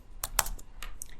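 Quick, close keystrokes on a computer keyboard while entering an Excel formula, a short burst of several crisp taps at uneven intervals, with no talking.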